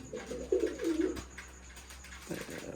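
Pigeons coo in low, throaty bursts close by, with a clear cluster of calls early on and another near the end, separated by quieter rustling.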